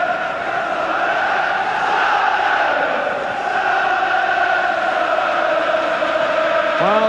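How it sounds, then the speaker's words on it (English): A large football crowd at Wembley for the 1992 Zenith Data Systems Cup final, Nottingham Forest against Southampton, keeps up a steady, loud roar of massed singing and chanting that fills the whole stadium. "there's a rousing atmosphere now around Wembley. The crowd really enjoying this final."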